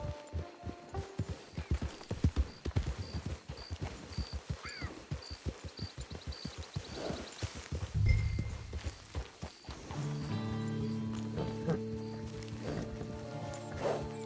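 Horse hooves clip-clopping in the video game Red Dead Online, a steady run of close, even hoofbeats that gives way to a swell of music near the end.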